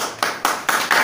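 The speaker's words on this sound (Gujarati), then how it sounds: "આપણા સૌની તાળીઓના વરસાદ વચ્ચે આ આશીર્વાદ તેમને આપે" Audience clapping at a retirement farewell ceremony for irrigation department officials in Junagadh, heard as four short, even bursts of applause separated by brief gaps, moderately close and free of talk.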